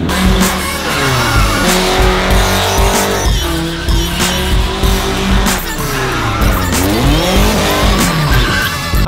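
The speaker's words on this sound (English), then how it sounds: "we're going to lighten the mood by bringing my Madre into Corey's insane cute drift car" A drift car slides with loud, continuous tire squeal and surging engine revs that rise and fall, close and steady throughout with no talking.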